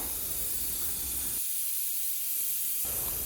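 Steam hisses loudly and steadily from a pressure cooker whistle while khichdi cooks on a gas flame, with a brief dip in the low rumble midway as the spray carries on.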